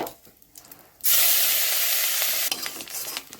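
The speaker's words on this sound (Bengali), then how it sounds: "আমার আদা রসুনটা ভালো করে নেড়েচেড়ে নিয়েছি, ভালো করে ভাজা হয়ে গেছে" Grated ginger and garlic being stirred in a hot pan for a Bengali fish-head muri ghonto burst into a loud, steady sizzle for a second and a half, then quieten to a soft crackle.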